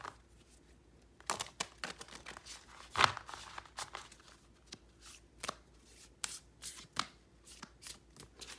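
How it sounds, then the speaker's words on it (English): A deck of oracle cards is shuffled close up: a quiet run of crisp riffles, slaps and soft papery taps in irregular bursts, with one louder snap partway through. "I think I'm gonna get this deck. Shuffle them first."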